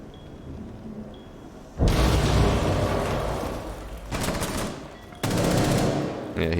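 First-person shooter game gunfire comes in sudden loud bursts of rapid automatic fire, two main volleys separated by a quieter stretch, over a faint background hum.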